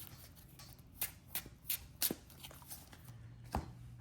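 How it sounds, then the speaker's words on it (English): A deck of trading cards is shuffled by hand, with a quiet series of close, crisp riffling bursts spaced unevenly over a few seconds against a faint background. "Go ahead and shuffle the deck up a little bit."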